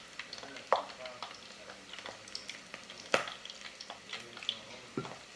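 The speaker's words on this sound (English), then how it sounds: "I've gotten all of them into the fryer, and I'm going to take a fork and just kind of push them down where I can so that the oil covers all of it" Onion rings made from scratch fry in hot oil while a fork pushes them down, giving a steady close sizzle broken by sharp clinks and scrapes of metal against the fryer.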